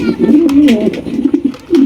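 A large dun-coloured BD King pigeon coos in repeated low throaty rolls at close range, loud and steady across the stretch, with no speech over it.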